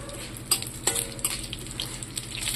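Chillies sizzle and crackle as they fry in a pan of oil for a Malayalam-style dish, a steady close hiss with a few sharp pops and stirring clinks, no talk over it.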